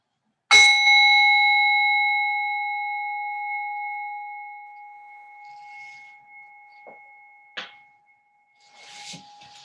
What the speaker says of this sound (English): you'll hear the sound of the bell